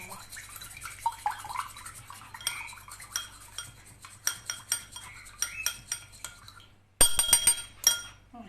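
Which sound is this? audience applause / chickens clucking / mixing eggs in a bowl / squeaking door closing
mixing eggs in a bowl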